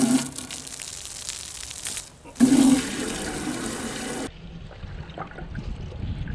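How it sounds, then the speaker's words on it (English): Water gushes and rushes loudly in bursts into an aquarium tank, with a splashy pour that cuts off, leaving quieter background sounds. "we're going to add water to our tank."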